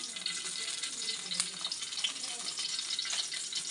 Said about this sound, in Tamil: அடுப்பில் கடாய் வச்சுட்டு நல்லா எண்ணெய் சேர்த்துக்கலாம்